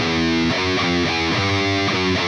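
Thrash metal riff played on a distorted electric guitar, loud and alone, with rhythmic palm-muted chugs and power chords in a steady repeating pattern.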